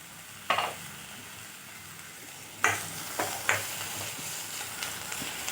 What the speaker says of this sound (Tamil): இதை நல்லா வதக்கிக்கணும்.